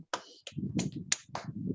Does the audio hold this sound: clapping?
yes